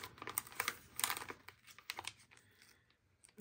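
A paper sticker peels away in short, faint, crackling tears and crinkles, bursts clustered in the first two seconds before tapering off.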